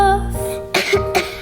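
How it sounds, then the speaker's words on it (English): A young girl who is ill with a cold and fever coughs several times in quick, close bursts, with a raspy throat-clearing quality between them and no talk. "You have a cough"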